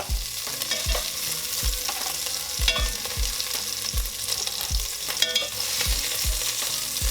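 Chunks of beef sear in olive oil for a stew, a steady loud sizzle with repeated scraping stirs and knocks of a utensil in the pot, no voices.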